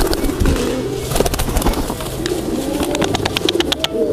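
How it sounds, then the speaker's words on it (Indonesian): Crossbred songbird of the Rampok and Kenwood lines singing loudly and continuously, with rapid chirps and trills over a busy background of other birds cooing. "Jadi semakin panas semakin kencang nih teman-teman burungnya teman-teman."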